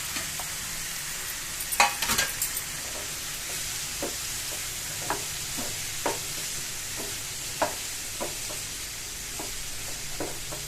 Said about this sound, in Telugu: కొంచెం మగ్గినాక స్టవ్ తగ్గించేసి బీరకాయ ఇందులో వేసేయాలి